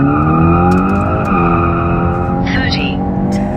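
A tuned Hyundai Elantra N launches for a quarter-mile run with its tires spinning, engine roaring loud and close as revs climb, with a brief squeal and a voice talking over the noise.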